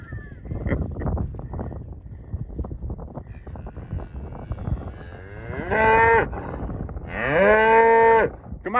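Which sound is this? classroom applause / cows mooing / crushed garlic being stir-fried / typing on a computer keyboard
cows mooing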